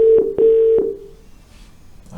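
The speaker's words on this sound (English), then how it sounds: "I can quickly phone the complex cases team." Telephone keypad tones dialing an internal call to another team at an office desk, a few short beeps with one long steady tone, fairly loud and close, no talk.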